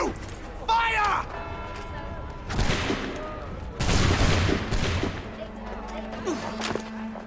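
Musket volley gunfire in Assassin's Creed 3, a burst of loud, close crackling shots in several waves with rattling mechanisms, mixed with game voices and effects.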